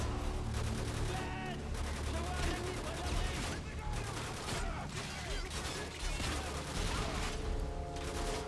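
Rapid gunfire from the Modern Warfare 2 campaign, bursts of shots and explosions running continuously through the stretch, with someone talking over the shooting.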